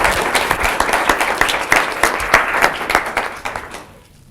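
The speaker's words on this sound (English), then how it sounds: "please give a round of applause for" Applause from an audience for a plenary speaker at an integer programming talk, steady dense clapping throughout that fades out at the end.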